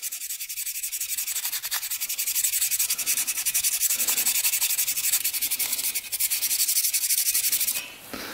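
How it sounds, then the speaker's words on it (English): Close, steady scratchy sanding on the trigger coil of a Polaris Scrambler 500 4x4 quad, taking the gunked surface down to bare metal with rapid rhythmic strokes, continuous until a brief stop near the end. "we just got done sanding"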